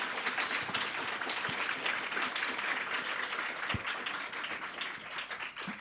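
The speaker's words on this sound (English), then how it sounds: "please give a big of applause for our 4 panelists" Audience applause for four panelists at a FIRST Tech Challenge event, a steady wash of many hands clapping at moderate level throughout, fairly distant and even, with no talk over it.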